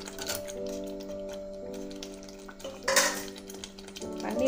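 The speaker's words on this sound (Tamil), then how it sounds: "போட்டுட்டு அப்படியே லைட்டாக கிளறி விட்டுக்கோங்க" A spoon lightly stirs fried paneer into a gravy in a pan, giving soft intermittent clinks and scrapes over a faint background hum, with a louder clatter near the end.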